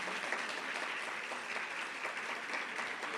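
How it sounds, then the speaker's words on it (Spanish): Steady applause from an audience in a hall, cheering tango and ballroom dance couples after a performance, dense and continuous clapping that holds at an even level throughout. "Sabemos bien que el mayor agradecimiento para estos artistas es el aplauso."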